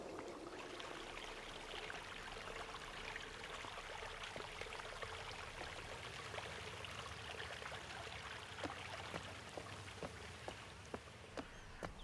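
Water flows steadily in the video game Riven VR, a soft, continuous stream with scattered small drips and splashes, heard quietly and alone.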